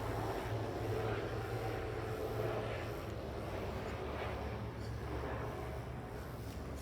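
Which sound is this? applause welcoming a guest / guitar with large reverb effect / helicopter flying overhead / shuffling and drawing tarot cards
helicopter flying overhead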